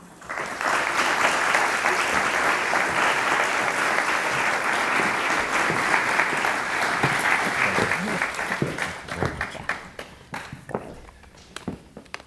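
Sustained audience applause fills a lecture hall as a speaker is welcomed to the podium, steady and full for several seconds before thinning into scattered claps and footsteps at the end.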